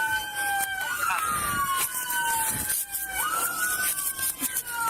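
A loud police car siren wails and sweeps up and down nearby at a police shooting scene, rising and falling repeatedly with some background commotion.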